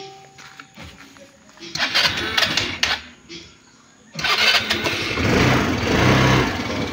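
A motorcycle with a side stand kill switch fault cranks and fires after the stand is raised, settling into a loud, steady close idle, with a few clicks and voices beforehand.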